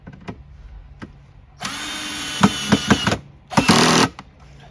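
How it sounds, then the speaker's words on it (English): Building a wooden Langstroth beehive, a power drill whirs loudly for about a second and a half to drive a screw, with knocks as the screw seats. After a short pause comes a second, briefer burst. "And you drive your screws in."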